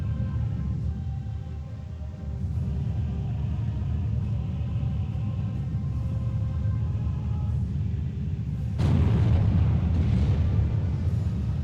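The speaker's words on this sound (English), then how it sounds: "I'm now trying to target his artillery using my mortars." Mortars shell enemy artillery in the Steel Division 2 war game: a dense, low battlefield rumble runs throughout, broken late by one heavier, muffled blast that thickens the roar.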